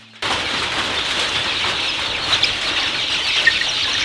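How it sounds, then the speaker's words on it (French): Dense chorus of thousands of chicks cheeping at once inside a poultry farm, a steady, close, high-pitched mass of peeping with occasional louder calls poking through, no talking. "circule lentement à travers des milliers de poussins qui s'agitent"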